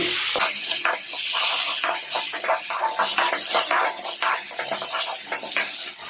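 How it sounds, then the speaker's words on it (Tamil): Tomatoes sautéing in hot oil for a dried-fish thokku, giving a loud, continuous close-up sizzle and hiss with faint crackles, and no voices over it. "இந்த தக்காளி பார்த்திங்கன்னா நல்லா குழஞ்சு வெந்து வரணும் அது வரைக்கும் நம்ம ஆயிலில் வதக்கணும்"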